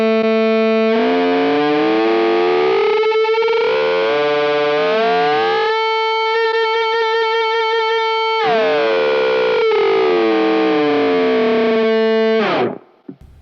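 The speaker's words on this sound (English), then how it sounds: "You can get this really cool sort of what I like to call the octave ripping effect." A sustained electric guitar note runs through a Digitech Whammy pedal, its octave harmonies sweeping and ripping between pitches in loud, distorted, siren-like glides that rise and fall over a steady held tone before cutting off.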